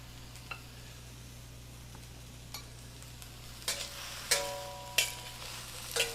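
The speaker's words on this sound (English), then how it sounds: "You want to cook this broccoli to about halfway." Broccoli frying in a hand-hammered wok, a low steady sizzle broken by several sharp metallic scrapes and clanks of a utensil against the wok, growing busier toward the end.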